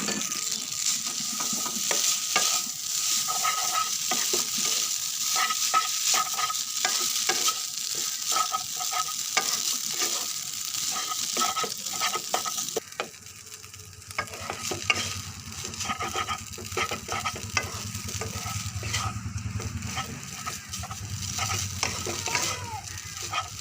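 Noodles with leftover potatoes stirred and fried in a pan, quail eggs in the dish, a steady sizzle with scraping stir strokes throughout, close and continuous, with no talking.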